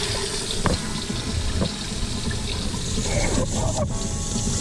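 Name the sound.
new bathroom faucet running cold water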